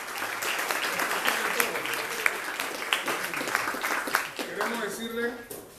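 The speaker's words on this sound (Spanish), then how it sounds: "para que nos ponga un aplauso, por favor, para los dirigentes" Crowd applause for the leaders at a New Year's Day parade organization gathering in Chepo, Panama, a lively continuous clapping with sharper individual claps standing out and voices mixed in, tapering near the end.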